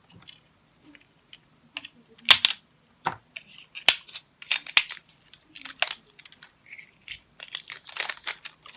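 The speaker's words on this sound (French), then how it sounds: "je vais peut-être prendre un petit ciseau, je pense que ça sera mieux pour l'ouvrir" Small scissors cutting open the packaging of a pink ink pad: sparse, sharp close-up snips and crinkly clicks in irregular bursts, separated by near silence, with no speech.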